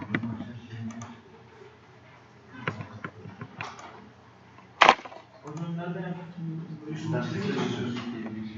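A computer mouse clicks while someone drafts in SolidWorks CAD software, with sharp clicks scattered among a person's talk and one louder, snappier click pair standing out near the middle.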